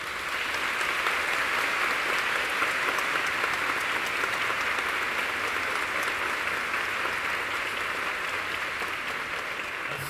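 Audience at a Dr. Cury lecture at Colégio Singular in Santo André applauding the teachers, an even, continuous roar of many hands clapping, steady in level from start to finish with no voices standing out.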